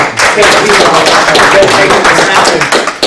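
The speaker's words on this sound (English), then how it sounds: "Another applause for George" A workshop audience breaks into loud, steady applause, dense clapping that continues throughout, with voices mixed in.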